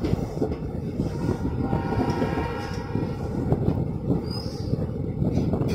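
A Garib Rath express train running on rails past Kishanganj station gives a continuous, close, loud rumble with rattling wagon noise and faint clatter, steady for the whole stretch with no voices.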